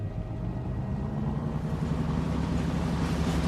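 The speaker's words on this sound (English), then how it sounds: "Listen, the engines are starting again." Ship engines rumble low and steady with a faint whine above, a continuous heavy drone that builds slightly toward the end, without voices.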